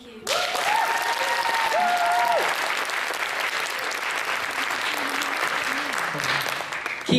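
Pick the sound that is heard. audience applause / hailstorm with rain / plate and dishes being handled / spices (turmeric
audience applause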